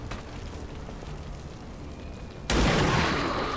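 A single heavy sniper shot in XCOM 2: War of the Chosen, a sudden loud blast that sustains into a rumbling roar after a quieter stretch of ambient game noise.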